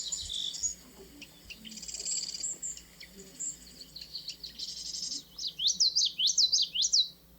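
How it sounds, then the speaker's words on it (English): A common yellowthroat sings three quick, bright, repeated phrases near the end, following faint chirps and a light insect buzz in the background. "Common yellowthroat song."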